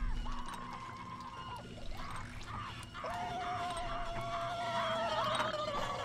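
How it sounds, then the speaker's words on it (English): Water pours steadily in a video game, a continuous liquid rush with gliding tonal game sounds layered over it, loud and close throughout. "I already added the water."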